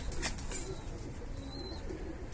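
Mardin pigeons coo softly in low, murmuring phrases, fairly faint against an outdoor background, with a brief higher chirp or flutter near the start.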